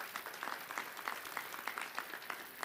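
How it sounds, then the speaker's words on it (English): An audience claps at a Detroit park event: a moderate burst of applause, continuous and fairly distant, with some scattered clapping peaks. "A round of applause for that group,"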